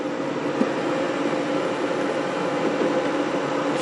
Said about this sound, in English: Compressor's been running for a while now.